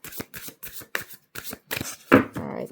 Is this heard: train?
no